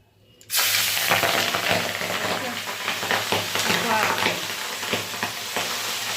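Pabda fish frying in hot oil, a loud continuous sizzle that bursts in suddenly and holds steady, with occasional spattering pops and light stirring.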